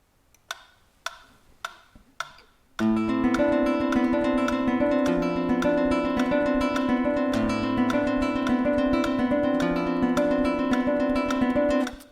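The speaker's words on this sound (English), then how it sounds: "which is a repeating 5-note pattern" A few soft clicks count in, then a plucked guitar loops a repeating five-note arpeggio pattern over a four-beat measure, bright and sustained, with a low bass line underneath.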